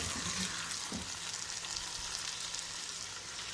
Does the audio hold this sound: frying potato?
yes